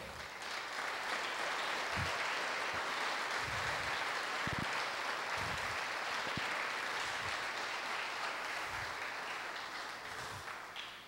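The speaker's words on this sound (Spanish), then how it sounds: "Si le va a dar un aplauso, hácelo bien fuerte al Señor." A church congregation applauds loudly, a sustained, even roar of many hands clapping for over ten seconds, with a few low thumps scattered through it, and tapering only at the very end.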